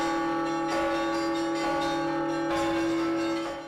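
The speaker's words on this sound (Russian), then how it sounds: "как звонят колокола" Church bells ring with sustained, overlapping metallic tones at a bell festival, several strikes renewing the resonant hum at steady intervals, clear and loud with no voices.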